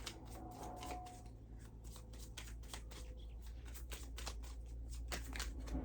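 A deck of Witch's Tarot cards is shuffled by hand in a quick, steady run of riffling flicks and slaps, close up and continuous, over a low background hum.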